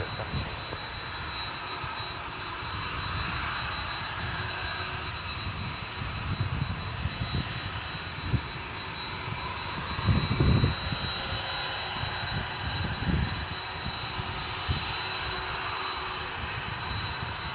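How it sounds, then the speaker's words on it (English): A Boeing 767's jet engines rev up on the ground at DFW Airport at night, a broad steady roar with a thin constant whine, swelling briefly at moments, heard from a distance. "the 767 we saw pushing back a second or two ago. That is now revving up"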